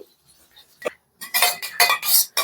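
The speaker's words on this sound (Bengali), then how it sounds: "তো দইটা একটু ফেটিয়ে নিচ্ছি" Yogurt being whisked with a little salt in a bowl, a run of quick metallic clinks and scrapes of utensil against the bowl in bursts after a near-silent start, close and fairly loud.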